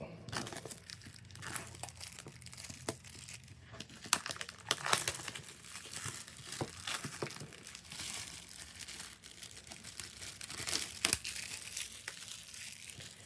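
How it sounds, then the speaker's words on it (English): Packaging for a Huawei watch being ripped open at close range: dry crinkling and crumpling with sharp tearing bursts, steady handling noise throughout and no voice. "we've got a little spot here we can rip"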